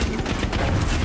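Dense, continuous gunfire from a firefight in the video game Far Cry 6, a loud sustained barrage of overlapping shots with no pauses.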